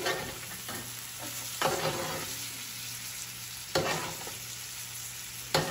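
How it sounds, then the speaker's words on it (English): Steak being basted with hot oil in a pan, a steady loud sizzle throughout with sharper spoon-and-splash bursts roughly every two seconds as oil is spooned over the meat. "Just going to baste away."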